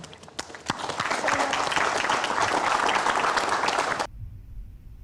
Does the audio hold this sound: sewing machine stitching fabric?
no